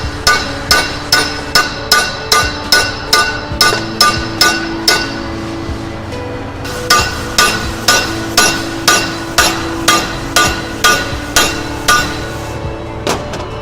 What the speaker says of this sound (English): 12 to 16 ounce ball peen hammer, and set it on something solid like the back of the vise. And we're going to have to hit this a few times